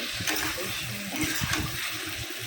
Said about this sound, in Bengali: এখানে হাফ কাপ ডাল দিয়ে দিলাম